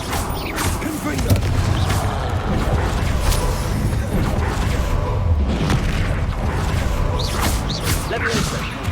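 Confringo blasting spell going off in Hogwarts Legacy during a fight with a troll, heard as dense, loud booms and crashing impacts that blend with whooshes and mechanical battle noise throughout.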